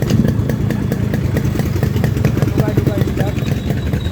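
A Japanese Yamaha RXS 115 motorcycle engine runs loud and close with a rapid, even two-stroke putter and some mechanical clatter, with a voice speaking over it.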